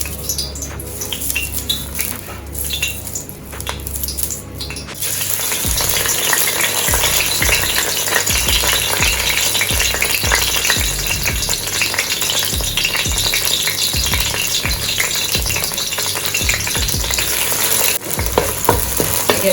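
Green scallion tops sizzle and fry in a curry pot, a loud, steady crackle that starts suddenly and keeps going as a utensil stirs and scrapes against the pot.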